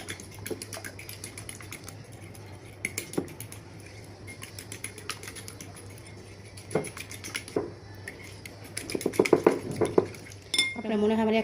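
A spoon scrapes and clinks against a bowl while gulab jamun dough is mixed with sugar and oil. Irregular close clattering builds into busier stirring toward the end, under a faint steady hum.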